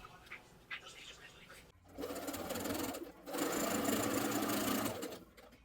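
A sewing machine stitches the hem of a jacket together with its lining, starting after a brief pause and running in two steady bursts with a short gap between them, close and fairly loud.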